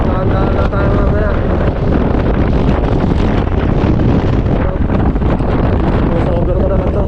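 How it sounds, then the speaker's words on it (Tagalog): Strong wind buffets the microphone steadily throughout, a loud roaring rumble near the road in Rosales, Pangasinan, with a voice faintly speaking beneath it. "hangin, sobra"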